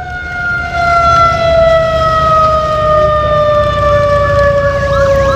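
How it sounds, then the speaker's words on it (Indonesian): An ambulance siren wails on a road near Makassar, a loud sustained tone sliding slowly downward as the vehicle passes close by, heard alone without talk. "ambulans."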